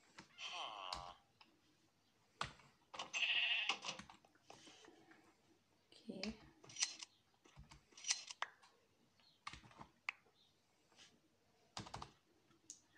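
A sheep is sheared with shears in Minecraft, heard as scattered snips, clicks and short bursts in an irregular rhythm. Brief bleating-like sounds appear among them, everything quiet and close, with no talking.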